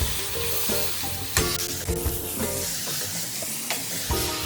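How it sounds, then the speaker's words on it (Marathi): Chopped tomatoes and onions roasting together in a hot pan for a paneer curry, stirred steadily: a loud, close, continuous sizzle with repeated spatula scrapes and knocks against the pan. "आपण टोमॅटो टाकून मिक्स करून थोडा वेळ आपण भाजू।"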